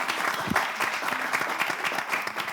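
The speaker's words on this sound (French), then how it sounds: "applaudissez pour ça" A room of people applauds at a French-language gathering, a dense steady wash of clapping throughout with a faint voice underneath.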